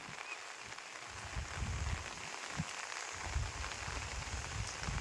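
Gentle rain falls steadily onto ground and an umbrella outdoors during an open-air cooking session, a soft continuous patter of drops with no voices.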